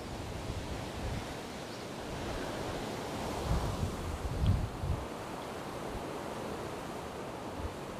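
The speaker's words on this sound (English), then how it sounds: "The wind isn't that strong. Maybe 40 knots, 45." Wind and waves around a boat during Cyclone Freddy, with winds of about 40 to 45 knots, forming a steady rushing roar with slightly stronger gusts midway.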